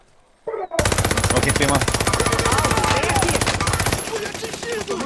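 Sustained rapid automatic gunfire in the video game Call of Duty: Modern Warfare, a loud dense burst running for several seconds after a short voice, tapering slightly near the end.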